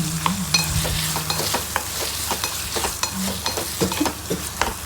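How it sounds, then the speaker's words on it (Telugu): Cherry tomatoes being stirred in a hot pan for a wheat pasta dish, with a spoon clacking and scraping steadily over a soft sizzle, close and fairly loud, with no talking. "చెర్రీ టమాటోస్ని అలా మిక్స్ చేసుకుంటూ ఉండాలి."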